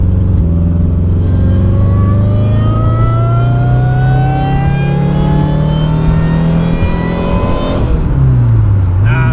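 A DIY supercharged Subaru engine with a slash-cut pulley revs up under load, its pitch climbing steadily with a supercharger whine before the throttle drops and the revs fall away; loud and close, with no talking.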